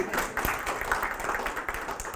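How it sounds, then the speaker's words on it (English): Audience applause at a conference session on gender-responsive budgeting, a brief stretch of moderate, steady clapping in a room with no talk over it. "we need to give her a clap."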